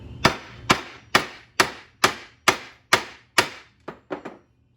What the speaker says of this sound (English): So I use my anvil part of my vise and a hammer, and I pound these down.